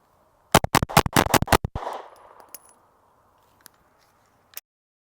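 Concealed carry pistols, including Glock models, fire a rapid string of about eight close, loud shots at an outdoor range, followed by a short echo and then a couple of isolated faint clicks and knocks.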